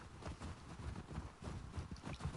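Horse hooves clip-clop in The Last of Us Part II as the riders approach a snowy strip mall, heard as soft, uneven thuds over a muffled background.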